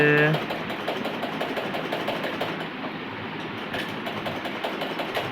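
A home sewing machine runs steadily with a continuous mechanical whir and rattle, close and fairly loud, while a voice speaks briefly at the start.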